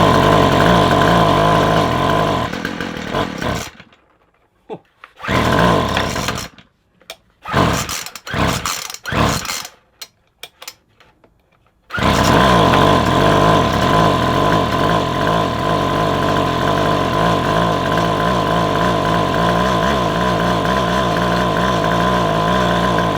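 A McCulloch strimmer's small two-stroke engine is pulled over, catching and sputtering in bursts between gaps, then roaring into a loud, steady run up close.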